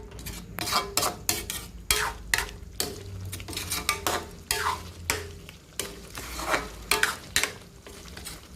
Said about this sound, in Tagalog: Saka yung bell pepper. Tapos haluin ko siya ng maigi para malasang malasa.